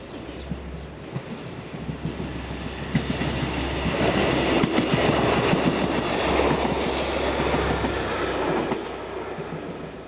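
A freight train rolls past on a French main line between Lille and Douai, its low rumble building as it nears, with rhythmic clickety-clack of wheels and brief squeals at close range.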